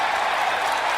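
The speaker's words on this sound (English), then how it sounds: "Big round of applause for Van Morrison." Applause for Van Morrison rings out as a dense, steady wash of many hands clapping together, holding at an even loudness for a brief second.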